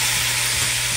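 Vegetables stir-frying in a hot pan with soy sauce and vinegar for Singaporean rice, giving a steady, close, loud sizzle with a constant hiss and no talking.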